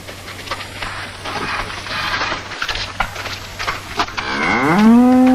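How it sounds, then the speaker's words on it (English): A large cow lets out a loud, drawn-out moo near the end, rising then holding steady, after a stretch of quieter farmyard background. "look at this big cow"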